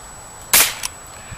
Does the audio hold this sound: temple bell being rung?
no